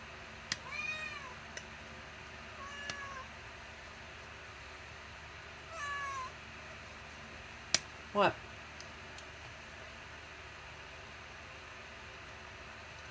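A house cat meows several times at low to moderate volume in a quiet room where miniatures are being built and painted, with short harmonic calls spread across the clip and a faint click or tap between them.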